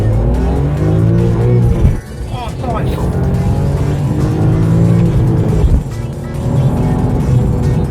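A BMW M3 E46 accelerates hard, its engine revving loudly with tire squeal mixed in, while people in the car talk over the engine noise.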